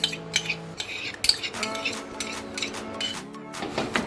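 A metal spoon clinks and scrapes around a bowl as cream is mixed into a rava ladoo mixture, with irregular sharp taps against the dish and soft rubbing between them, close up.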